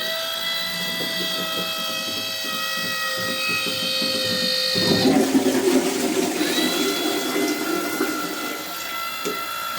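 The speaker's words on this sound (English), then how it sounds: "we can just say, Alexa, flush the toilet." A household toilet flushes on a smart-speaker voice command, a loud rushing surge of water that breaks in about halfway through over a steady background of tones, then settles into a continuous wash and refill.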